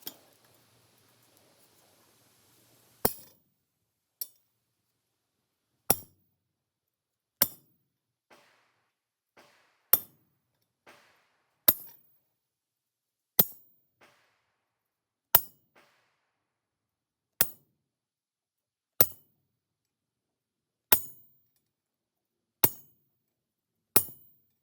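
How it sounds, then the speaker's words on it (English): Sharp chisel strikes cutting a rough texture around a wooden gristmill wheel, about a dozen crisp, loud taps spaced a couple of seconds apart with a few faint lighter knocks between, no talk. "going to take my chisel and I'm going to cut in all the way around so that it's got a rough texture to keep this wheel in place"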